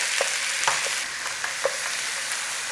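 Ground beef with onion and garlic sizzles steadily in a pan, a bright continuous frying hiss broken by a few soft stirring clicks, close and alone with no voices.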